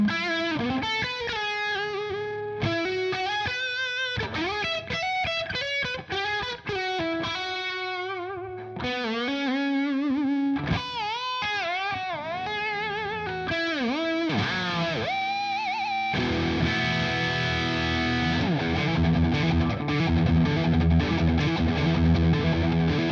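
Friedman NoHo 24 electric guitar through a high-gain, distorted tone, playing quick riffs and bent lead lines, then heavy sustained chugging chords, loud and continuous with no talk.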